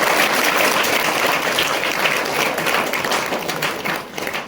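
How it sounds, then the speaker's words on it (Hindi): Children clapping in applause, a dense sustained burst of many hands, loud and fairly even, then tapering slightly at the end. "इनके लिए ताली बजाओ आप लोग साथ"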